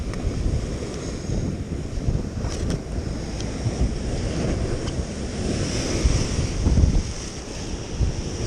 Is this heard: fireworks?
no